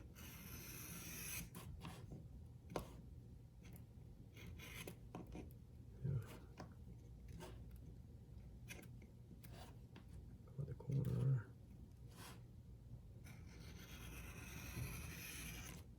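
A leather watch strap edge is rubbed back and forth with a burnishing tool, a soft continuous friction noise with rhythmic strokes, close and quiet, with a couple of light knocks.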